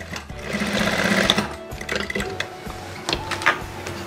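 A sewing machine stitches a double welt pocket, running in loud close bursts of rapid needle clatter with short pauses and restarts as the fabric is turned; no one talks.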